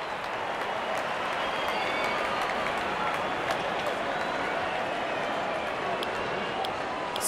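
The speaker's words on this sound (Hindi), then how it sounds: "दर्शक इस 50 रन को अपने तालियों से सराहते हुए" Cricket crowd at a Hong Kong match applauding a batter's fifty, a steady wash of clapping and crowd noise throughout, with commentary-like voices underneath.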